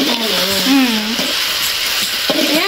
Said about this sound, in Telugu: ఇది హై ఫ్లేమ్ లోనే సాట్ చేసుకోవాలి.